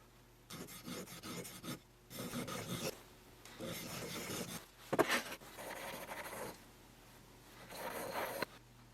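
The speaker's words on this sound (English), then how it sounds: "I'm just touching it up on some stones." A high-speed steel lathe threading cutter, ground to 60 degrees, is rubbed back and forth on sharpening stones in bursts of close, raspy filing strokes separated by short pauses.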